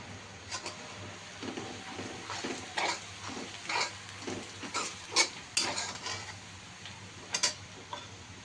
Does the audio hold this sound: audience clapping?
no